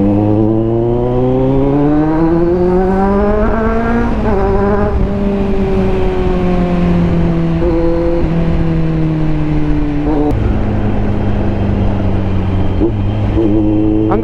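A loud Kawasaki Z900 motorcycle engine revs up and down through its gears, the pitch climbing and dropping repeatedly with a harsh, steady roar close by, at night.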